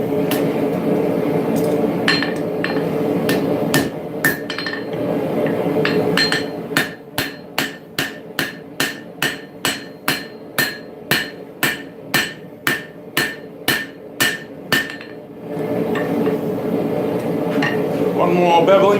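Blacksmith hammering hot railroad spike steel to straighten the axe's hook-like beard on the anvil, a steady run of about twenty sharp ringing blows in even rhythm, with talk before and after.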